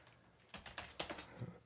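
Typing on a computer keyboard: a quick burst of about half a dozen light, close clicks in an uneven rhythm, quiet and alone with no talk.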